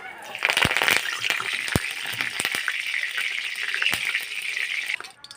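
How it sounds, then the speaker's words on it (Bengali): Curry leaves and green chillies fry in hot oil, giving a steady crackling sizzle with sharp pops and spatters throughout before it cuts off. "ক্যারি পাতা আর কাঁচা লঙ্কাটা আমি তেলে ভেজে নিয়েছি।"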